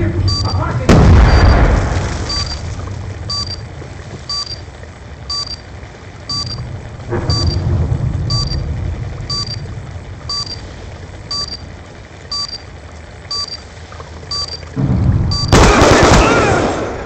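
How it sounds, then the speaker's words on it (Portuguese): A bomb detonates in Black Ops II with a deep, heavy boom, followed by further rumbling blasts. A rapid electronic beep repeats steadily underneath throughout. "Bomba no ar."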